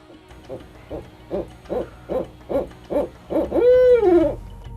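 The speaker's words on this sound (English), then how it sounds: "out in the wild, barred owls will kind of go, who cooks for you?" A captive barred owl gives a run of about eight evenly spaced, stuttering hoots, then a long drawn-out wavering call, loud and close with no talking.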